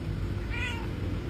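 A house cat gives a single short meow, fairly faint against a steady loud background hum.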